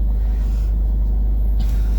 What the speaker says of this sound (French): Il y a une voiture.